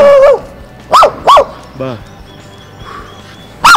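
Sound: dogs barking

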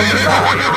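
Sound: horse neighing

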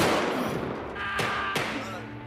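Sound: gunshots

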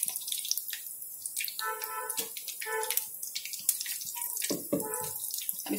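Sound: stuffed chili pakoras frying in oil

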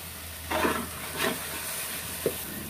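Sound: coriander powder frying and stirred for beef dum biryani masala

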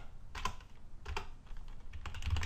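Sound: typing a MySQL command on a computer keyboard

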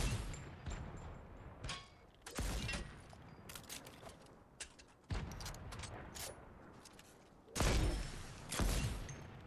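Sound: sniper rifle gunshots in a video game

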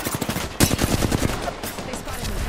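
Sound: gunfire in a video game

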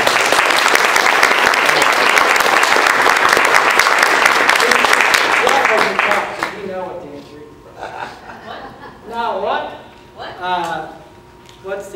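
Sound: applause

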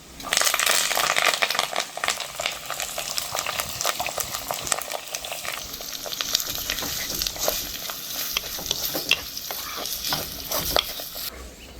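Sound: onion, green chillies and curry leaves frying with garlic

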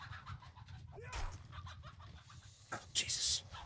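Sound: chicken clucking in a video game

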